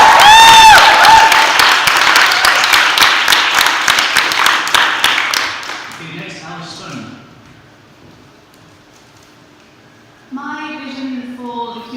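Audience applause at a student union presidential debate, a loud burst of dense clapping that gradually fades away, followed by a speaker beginning to talk.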